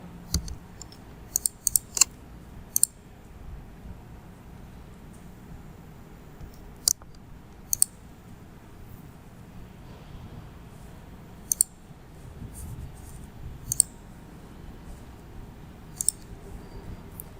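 Sparse, sharp mouse clicks during a SQL Server data mining computer tutorial, some in quick pairs and others spaced several seconds apart. Quiet and close, over faint background hiss, with no speech.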